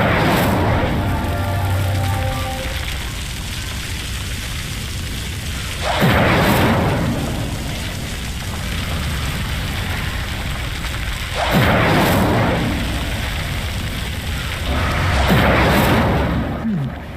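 The Incendio fire spell lights pyres in Hogwarts Legacy. Three separate whooshing, booming bursts rise out of a steady, noisy ambient background.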